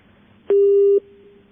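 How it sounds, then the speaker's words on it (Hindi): A telephone gives one loud, steady busy-tone beep lasting about half a second after a call is disconnected, with a quiet line hum before and after. "आपका फोन कट गया"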